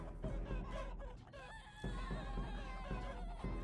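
Flock of desert chickens in the battle game Totally Accurate Battle Simulator, clucking and squawking in overlapping bursts over a constant low rumble of combat, loud and continuous throughout with no voices.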